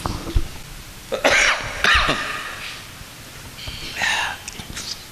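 A few harsh coughs and throat-clearing bursts come close to the microphone, separated by short quiet gaps, with faint breathy murmuring between them.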